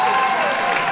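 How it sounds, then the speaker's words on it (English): A roaring crowd gives a standing ovation in a high school gym at an OHSAA girls basketball tournament game between Mason and Goshen, with loud, sustained applause and cheering filling the entire moment. "she gets a roaring standing ovation from this Comet crowd"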